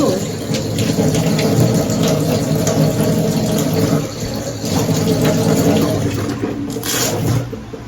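Tap water runs steadily into a sink during face washing, a loud continuous splashing rush close by, with brief louder splashes near the end.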